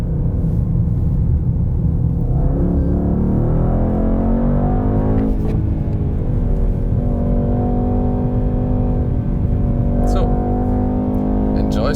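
Mercedes-AMG E63S with its 612 hp V8 drives on a racetrack, its engine droning loud and steady with shifting pitch and rising revs, while someone talks over it throughout.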